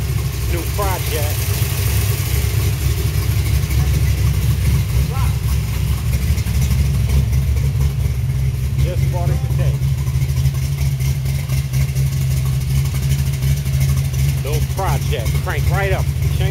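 A car engine with a newly replaced carburetor idles steadily just after being started, giving a constant low rumble while people talk over it.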